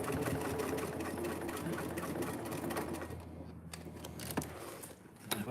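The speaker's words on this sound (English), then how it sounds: "Everybody's sewing." A sewing machine runs steadily at a group sew-along, a continuous fairly loud whir through most of the stretch, then easing off near the end amid small clicks and handling sounds.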